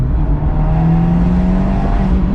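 An Abarth 124 Spider engine with its standard exhaust idles and revs steadily with a deep, even exhaust drone, loud and close throughout.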